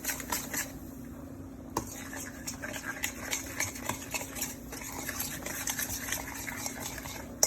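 Garlic sauce mixed with a utensil in a bowl before shrimp go in, soft rhythmic wet stirring and light clinks of metal on the dish, close and quiet.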